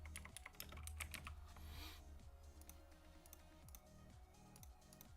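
Close, quiet clatter of a computer keyboard being typed on in irregular bursts of quick keystrokes, over a low steady electrical hum and faint background tones.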